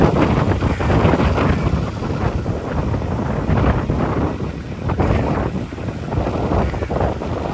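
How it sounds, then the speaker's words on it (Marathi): Steady outdoor wind buffets the microphone with a constant low rumble and rushing gusts, loud and close throughout with no talking. "मस्त हवा सुटले"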